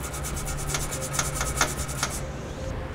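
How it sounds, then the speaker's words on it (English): A nylon tube brush scrubs out the threads of a weld nut in a vehicle frame, wet with spray lubricant, during a Draw-Tite Max-Frame trailer hitch install: steady close rasping strokes in a quick back-and-forth rhythm, no talking. "Thoroughly clean the threads of the weld nut out so we can get our new fastener in place."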